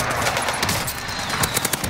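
Rapid bursts of video game gunfire crackle close and loud through the whole two seconds, with sharp repeated shots that hit the player character.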